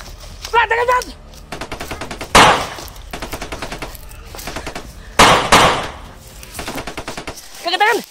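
Rapid bursts of automatic gunfire, several long rattling volleys punctuated by two loud heavy blasts, with brief shouted voices at the start and end.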